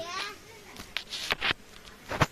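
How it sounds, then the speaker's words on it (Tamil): Honey bees hover around freshly harvested comb honey on a stick outdoors, giving faint intermittent buzzing with a few brief louder passes close by. "பாருங்க இந்த இடத்துல அந்த தேனீக்கள் வந்து உட்காந்துருச்சு"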